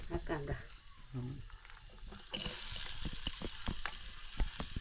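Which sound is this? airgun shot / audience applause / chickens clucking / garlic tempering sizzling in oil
garlic tempering sizzling in oil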